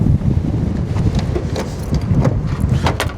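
Blizzard wind heard from inside a moving car, a loud rumbling buffet of gusts and road noise with scattered taps and rattles, close and continuous, with no talking.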